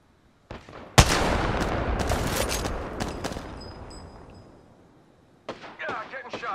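Gunfire in the shooter game Apex Legends: a sharp shot opens a loud, sustained burst of rapid firing that fades over several seconds, followed by more quick shots, with an in-game voice speaking partway through.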